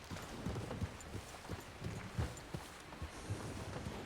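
A horse's hooves clip-clopping in Red Dead Redemption 2, a steady, moderately paced walking rhythm of soft thuds over a low, even background, with no voices.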